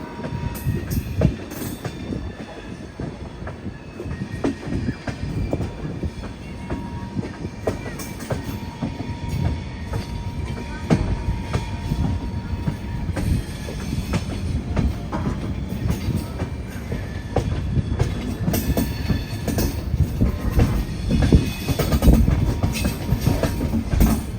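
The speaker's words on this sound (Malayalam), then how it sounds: "ട്രെയിൻ അങ്ങനെ ഹരിദ്വാറിലേക്ക് എത്തിക്കൊണ്ടിരിക്കുകയാണ്" Kochuveli–Rishikesh Express rolling toward Haridwar, heard from inside a 3AC economy coach: a steady loud rumble with rhythmic wheel clatter and occasional squeals, continuous throughout.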